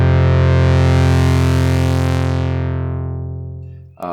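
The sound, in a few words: synthesizer with overdrive effect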